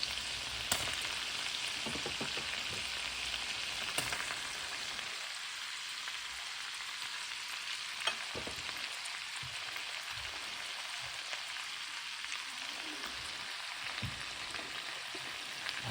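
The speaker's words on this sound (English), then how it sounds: "Okay, so now we're going to add our sausage" Sausage hits a hot pan for an all-in-one Buffalo Wild Wings parmesan garlic dish, a steady crackling sizzle that settles into bursts of spattering with small clicks of a utensil.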